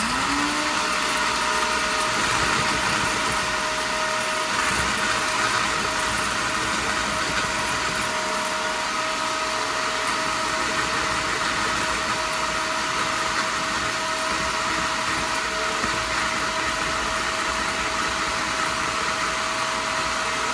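A loud, steady blender grinding eggshells roars continuously throughout, harsh and close, with a constant motor whine and no pauses.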